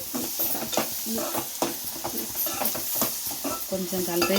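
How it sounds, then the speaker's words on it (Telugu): Turmeric is stirred into garlic paste frying in a pan, with steady sizzling and repeated scraping strokes of a spoon against the pan. "పసుపు వేసి కొంచెం కలిపేసి"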